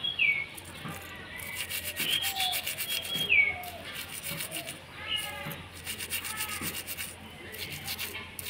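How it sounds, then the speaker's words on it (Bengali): An old brush scrubs an old metal anklet, giving repeated close, gritty rubbing strokes in an uneven rhythm, with faint chirps in the background. "এই ব্রাশটা দিয়ে আমি এইভাবে করে একটু ঘষে নেব।"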